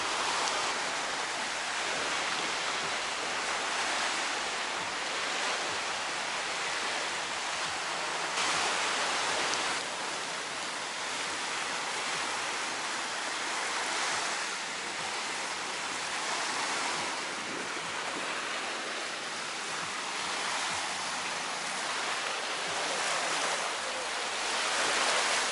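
Surf washing onto the fine sand of Incekum beach in Alanya, Turkey, a steady broadband rush of waves that continues without pause for the whole stretch, with no talking.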